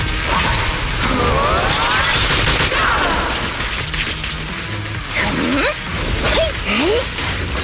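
Homing barrage attack in Zenless Zone Zero, a dense, loud stream of mechanical firing bursts and whooshing impacts that runs without a break, with sweeping tonal effects layered over it and voices shouting in the game.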